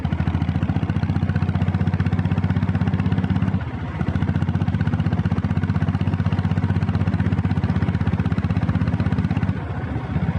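A red self-start diesel Bullet motorcycle engine runs steadily and loudly, with a low, even thumping rhythm that continues throughout. There is a brief dip near the middle and again near the end.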